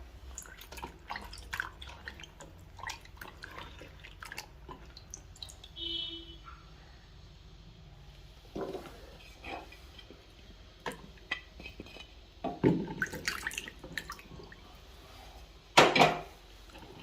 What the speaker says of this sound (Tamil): தண்ணியில் உப்பு சேர்த்துட்டு முதல்ல நம்ம மிளகாவை கழுவி எடுத்துடலாம்.